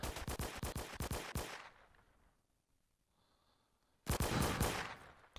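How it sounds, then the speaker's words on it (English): Rapid bursts of automatic gunfire in a shooter video game, loud and close, rattling for about a second and a half, falling quiet, then resuming in another dense volley. "Being shot at."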